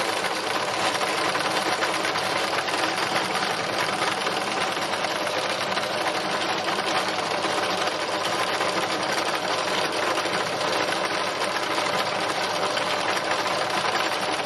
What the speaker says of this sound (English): But I'm just going to stitch this bit now.